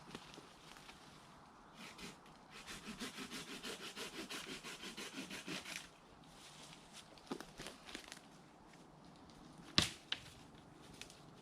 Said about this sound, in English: got my trusty saw. Going to cut it at 45 degrees.